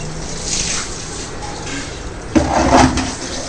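Water filling at a home, a steady rushing, hissing flow that swells into louder splashing near the end, heard over a constant background rumble with no talking.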